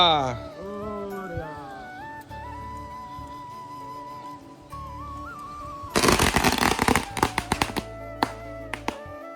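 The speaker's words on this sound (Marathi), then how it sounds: "एवढे फटाके फोडून घरीच निघाले" Tonal singing or music plays at first, then a loud, rapid string of firecracker bursts crackles close by at a Ganpati arrival procession in Konkan, popping irregularly before thinning out.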